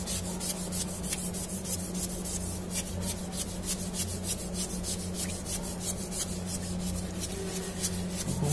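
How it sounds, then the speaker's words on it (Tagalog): A floor and urinal bowl are scrubbed with muriatic acid in a steady run of close, gritty brushing strokes, rubbing continuously with no speech. "Ngayon kuskusin na po natin."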